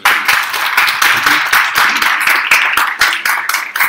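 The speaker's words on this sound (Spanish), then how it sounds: "Por favor, démosle un aplauso al doctor" Audience applause for a doctor after a hypertension talk at a nephrology conference, a dense steady clapping with many individual claps standing out, loud and close throughout.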